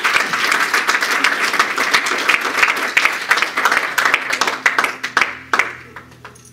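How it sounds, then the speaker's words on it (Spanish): A church congregation claps loudly in a dense burst that thins into scattered individual claps and fades out toward the end. "Denle un fuerte aplauso."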